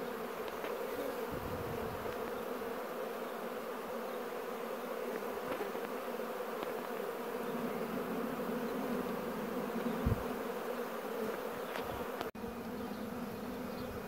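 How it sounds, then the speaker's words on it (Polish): A honey bee swarm being removed from inside a house wall gives a dense, steady buzzing of many bees that stays close and continuous throughout, with no voices. "widać, że większość pszczół już weszła do ula"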